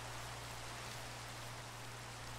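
Steady video game rain in Minecraft hisses evenly throughout, a soft continuous patter with a low hum beneath it and no voices.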